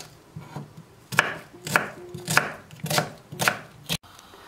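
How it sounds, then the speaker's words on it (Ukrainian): A knife chops an onion on a cutting board for a pumpkin cream soup, giving about seven crisp, sharp knocks at an uneven, brisk pace, close and clear with no talk. "Цибулю нарізаємо як на зажарку."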